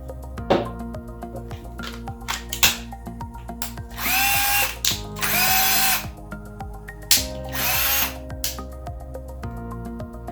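A Milwaukee M12 cordless drill whirs in several short bursts, spinning up and stopping repeatedly, loud and close, with clicks and handling noises between runs.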